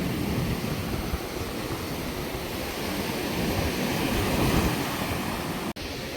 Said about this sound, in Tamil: கடல் வந்து கரையை தொட்டு தொட்டு கொண்டு போகுது பாருங்க.